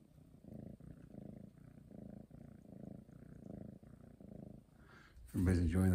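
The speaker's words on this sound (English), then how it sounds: "Listen to her purring." A female cat purring close by, a soft, even rumble pulsing in steady breaths for about five seconds, then cut off by a loud voice speaking.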